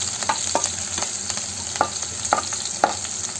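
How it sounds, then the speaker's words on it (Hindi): Green chillies and dal frying in a pan, a steady sizzle with periodic sharp scrapes of a spatula stirring at a moderate pace, close and fairly loud with no talking. "हरी मिर्च भून गया है।"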